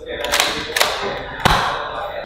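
An X-Shot Turbo Advance toy blaster fires foam darts, three sharp close thumps about half a second apart, with a voice talking underneath.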